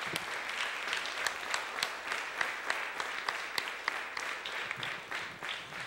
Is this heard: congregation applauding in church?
yes